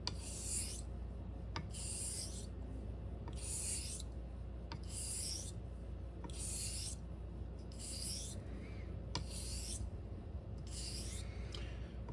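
A razor blade strokes back and forth on a Japanese natural whetstone, about eight even raspy scrapes in a slow steady rhythm, close and quiet with no talking.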